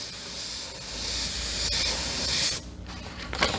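An airbrush hisses steadily as it sprays paint against a handheld freehand shield, a close continuous airy spray that briefly drops and then resumes more softly near the end.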